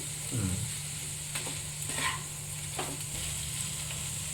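Two bay leaves fry in hot oil in a pan, giving a steady close hiss with a few scraping stir strokes and a low background hum.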